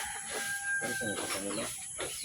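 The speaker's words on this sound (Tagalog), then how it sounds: "Ayan, nahuli na ang manok ni Camilo." A freshly caught chicken clucks and squawks in short agitated bursts close by, with faint background noise.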